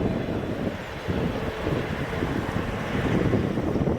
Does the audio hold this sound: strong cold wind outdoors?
yes